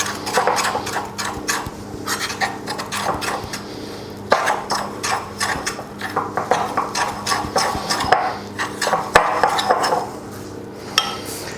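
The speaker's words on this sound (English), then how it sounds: "So I'm just going to mix that up." Cake batter for a lemon drizzle cake being mixed with yellow food colouring in a bowl, a spoon or whisk clattering and scraping against the sides in quick, uneven strokes, close and fairly loud.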